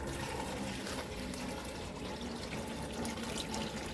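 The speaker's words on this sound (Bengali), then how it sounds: "দু জায়গাতেই জল দিয়ে রাখি" Water poured out at two spots while cleaning a room at home, a steady broadband splashing rush that runs continuously and fairly loud throughout, with no speech over it.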